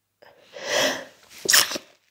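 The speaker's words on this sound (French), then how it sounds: "Je vais éternuer." A single sneeze from a woman, a short inhaled build-up followed by a sharp burst, close and alone in a quiet room.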